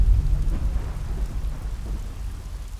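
Rain falls in a steady low wash with a dull rumbling undertone, loudest at the start and fading slightly, with no voices.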